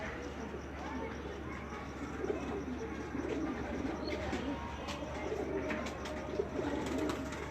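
Pigeons in a Faisalabad loft coo softly in low, rolling calls, with faint chirps and someone talking nearby over a steady background hum.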